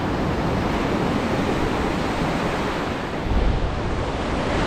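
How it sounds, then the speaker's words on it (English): Ocean surf rolls in steadily under strong wind buffeting the microphone, a dense continuous roar with one slightly heavier surge near the end and no voices. "watching the ocean, watching the waves roll in"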